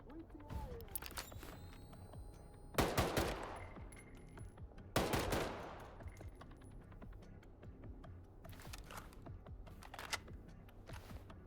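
Gunfire in the video game STALKER 2, with two loud, sharp bursts of shots and a few fainter pops scattered around them, set against a steady background hum.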